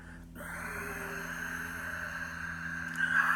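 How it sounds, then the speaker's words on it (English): An Ujjayi yoga breath, also called seashore breathing, is a soft, steady exhale through the nose with the throat constricted. It gives a faint, continuous airy hiss close up, with a slight whistle near the end. "seashore breathing. It sounds like this."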